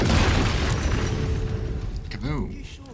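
A fireball spell in Baldur's Gate 3 detonates with a loud, rumbling boom that rolls and fades over a couple of seconds, followed by a character's voice speaking.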